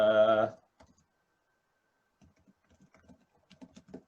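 Soft, sparse keystrokes on a computer keyboard, quiet and close, tapping irregularly after a brief spoken word.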